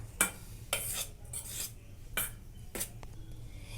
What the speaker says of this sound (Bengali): ড্রাই ইনগ্রেডিয়েন্টসগুলো আমি খুব ভালো করে মিশিয়ে নেব।